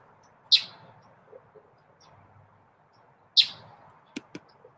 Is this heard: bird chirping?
yes